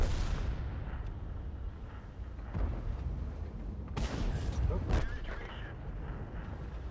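Artillery fire in a tank video game with a T-44, deep distant booms and a couple of sharper nearby blasts over a low rumbling background, while a player talks throughout.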